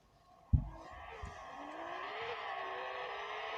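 A car engine from the Roblox taxi game drones steadily at a moderate level. It opens with a brief low thump, and the pitch shifts slightly as the car is driven.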